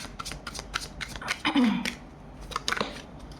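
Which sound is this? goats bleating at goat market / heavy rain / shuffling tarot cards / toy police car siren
shuffling tarot cards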